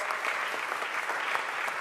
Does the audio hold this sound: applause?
yes